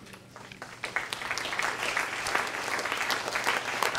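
An audience claps steadily after a poem is read at a poetry evening, the applause building quickly and holding dense and moderately close for the whole stretch, with no voices over it.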